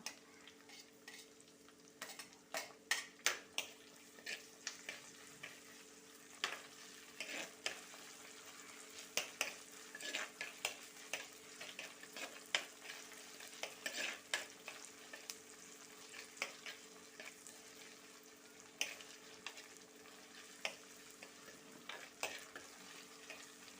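Ginger sautéed in a pan, a faint low sizzle under a long run of light, irregular spatula taps and scrapes, quiet and with no talking.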